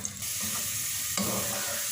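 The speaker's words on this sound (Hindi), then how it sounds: "सुनहरा फ्राई करेंगे इस प्याज को" Sliced medium onion frying golden in a little oil, with a steady, fairly quiet sizzle and a brief scrape of stirring partway through; no voice.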